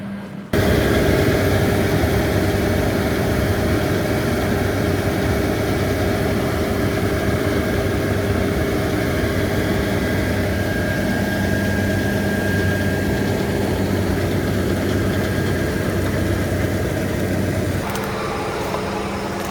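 A huge John Deere X9 combine harvester cuts wheat across a 5,500-acre farm, its heavy engine giving a loud, steady drone with low rumble and mechanical whine that continues unbroken before easing slightly near the end.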